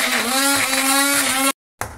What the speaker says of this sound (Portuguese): vai bater no mix agora.